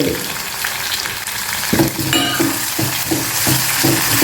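Thinly sliced onions and green chillies fry in hot oil for a poori curry, a loud, steady sizzle up close, broken by regular rhythmic scrapes and clinks of a spoon stirring the pan.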